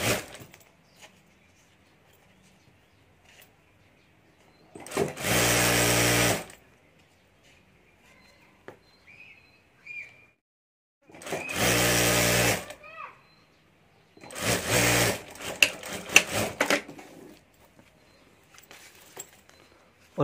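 A sewing machine stitches handbag fabric in three loud, close bursts of rapid whirring, each a few seconds long, separated by quiet pauses with faint handling sounds.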